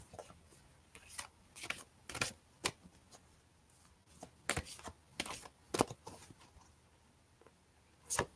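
A deck of cards shuffled by hand for an angel card reading, heard as close, crisp riffling bursts that repeat at irregular intervals in a quiet room.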